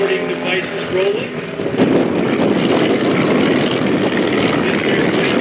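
Propeller airplane with a wooden wing flying at an airshow, a broad steady engine and propeller drone with wind noise, loud and fairly near, under a narrator's voice.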